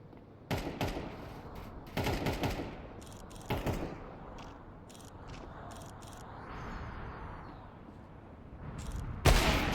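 Rapid gunfire in the video game Counter-Strike, with rattling bursts of shots and single cracks over a constant game hum, ending in a loud close blast.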